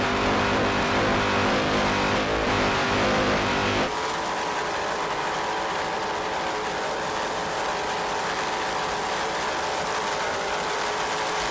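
A Budweiser open-class offshore racing powerboat at the 1993 Lake of the Ozarks Challenge drones with a loud, steady engine roar, shifting to a harsher, rougher tone partway through and holding it without any voices.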